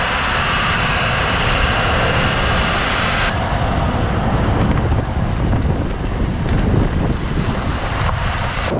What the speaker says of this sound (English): Wind's kind of whipping around pretty good today